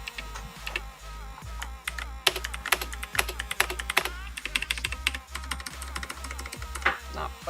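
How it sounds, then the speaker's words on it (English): Typing on a computer keyboard during a live stream, fast clusters of sharp key clicks with brief pauses, fairly close and without talk. "Not playing around here, typing the same thing over and over again."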